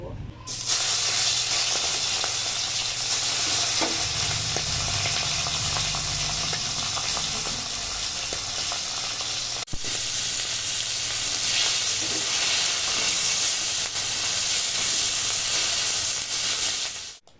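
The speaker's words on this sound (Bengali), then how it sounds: "ইলিশ মাছের মাথাগুলো ভেজে" Hilsa fish heads fry in very hot oil, giving a loud, dense, continuous sizzle and spatter that holds steady throughout and cuts off abruptly at the end.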